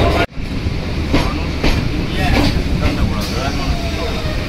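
Kolkata circular rail train running on the tracks under Howrah Bridge, a loud, continuous rumble with faint, periodic clacks of wheels over rail joints, and a voice speaking over the noise.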